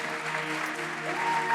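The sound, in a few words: concert audience applause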